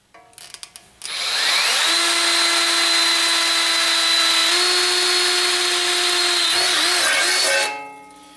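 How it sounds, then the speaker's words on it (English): An Ingersoll Rand D5140 20V cordless drill with a 1/4 inch cobalt bit bores through thick-gauge sheet metal, giving one loud, steady high-pitched whine for about seven seconds after a few short clicks, then winding down as the bit breaks through. "I put a 1/4 inch cobalt drill bit on here, and I'm going to go ahead and drill through this sheet metal"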